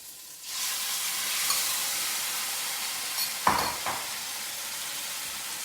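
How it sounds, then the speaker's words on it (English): Chicken sizzles steadily in a couple tablespoons of smoking-hot oil in a wok, a loud continuous frying hiss with a couple of brief clanks of utensil on metal partway through. "It sizzles, which is what we want."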